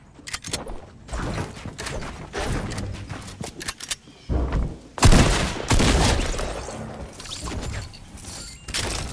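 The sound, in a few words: gunfire in the video game Fortnite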